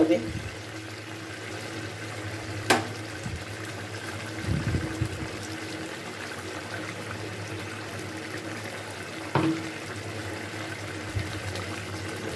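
Water poured from a bowl into a pot of simmering bottle gourd, a steady wash of liquid noise with a few clinks, close by.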